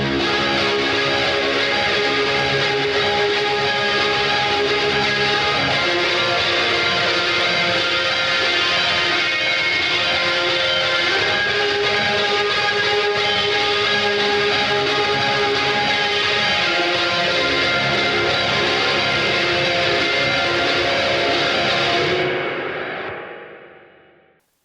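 A dense, continuous electric guitar part played on single-coil pickups with effects plays steadily and loudly for the whole stretch, then cuts off with a brief trailing fade.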